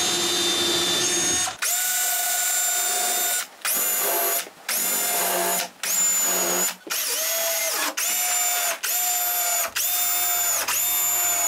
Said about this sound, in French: je visse les vis qui vont retenir tout ça ensemble